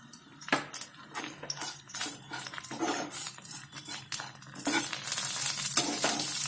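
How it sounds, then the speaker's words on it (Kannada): Tamarind, garlic and spices for radish chutney sizzling in a pan, with repeated scraping stirs and clinks of a ladle against metal, close and fairly quiet, gradually growing more intense. "ಎಲ್ಲಾನು ಚೆನ್ನಾಗಿ ಫ್ರೈ ಮಾಡ್ಕೊಳ್ಬೇಕು"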